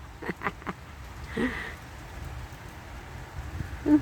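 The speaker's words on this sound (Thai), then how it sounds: "ดีใจฝนมา มาเยอะๆหน่อยก็ได้นะคะ" Steady rain falling, a soft continuous patter with a few faint bumps and noises mixed in.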